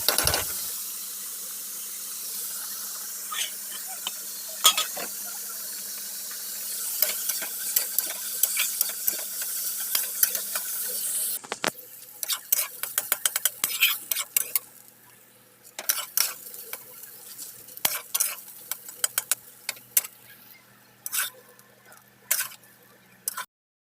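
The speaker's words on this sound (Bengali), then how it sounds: "এটা মাছ ভেজে নিচ্ছি, ঢেলা মাছ, আর ওই কি বলে এটা, কুশি মাছ, আর এই আলু দিয়ে আমি ভেজে নিচ্ছি।" Small dhela and kuchi fish fry with potatoes in a pan, a steady sizzle that later gives way to a quieter bubbling broken by frequent clinks and scrapes of a spatula against the pan.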